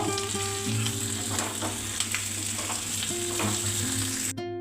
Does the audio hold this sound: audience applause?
no